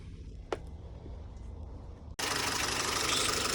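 A Renault Clio 1.2 is being serviced, and a quiet, low background rumble gives way suddenly to a louder, steady engine idle that holds close and even after start-up.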